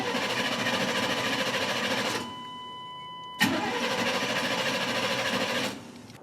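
A stranded vehicle's engine cranks over with a rapid, steady starter whir that fails to catch, pauses briefly, then cranks again with a sharp onset before stopping, close and loud.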